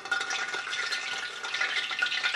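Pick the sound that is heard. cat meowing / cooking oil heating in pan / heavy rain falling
cooking oil heating in pan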